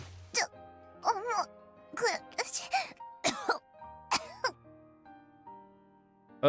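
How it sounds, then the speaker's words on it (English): A female character in the video game Island coughs several times in short harsh bursts, close and clear, with brief gaps of quiet between fits and a faint chime-like tone underneath. "She coughs a couple more times"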